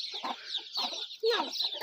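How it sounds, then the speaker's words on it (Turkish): Several chickens cluck in short, uneven bursts close by, with one louder squawk partway through and no voices. "Merhaba tavuklar."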